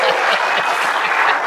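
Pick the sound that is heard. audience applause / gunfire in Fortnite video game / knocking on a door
audience applause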